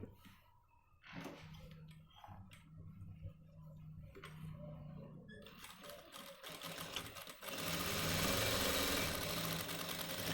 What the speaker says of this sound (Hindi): यहाँ हमें सिलाई मारनी है इसके एक सूत पीछे की साइड